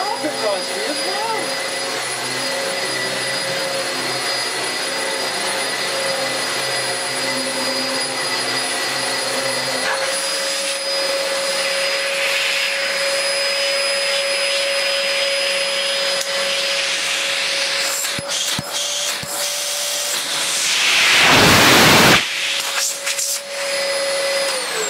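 A refurbished Dyson vacuum cleaner runs continuously on carpet, a loud steady motor whine with a steady high tone, its pitch and airflow shifting near the end as suction surges briefly.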